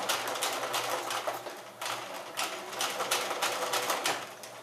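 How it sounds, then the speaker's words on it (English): A sewing machine stitches fabric for a Jedi robe in rapid, even mechanical bursts with brief pauses between runs, close and clear with no voices over it. "I have a button on my machine that will make it end each stitch down"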